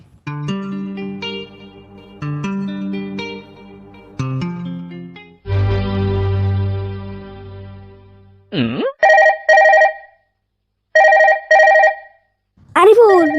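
A telephone rings with a bright electronic bell tone in repeated bursts, first in a fuller melodic ringtone pattern, then in sharp double trills separated by short silences, loud and close.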